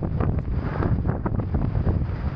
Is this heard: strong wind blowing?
yes